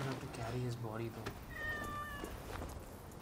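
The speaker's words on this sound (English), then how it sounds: "What, there's a cat in this game?" A cat meows in the Assassin's Creed Origins video game, several drawn-out mewing calls heard close, over low game ambience and a voice speaking.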